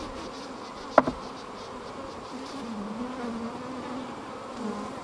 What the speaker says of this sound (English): I got to knock all the bees off anyway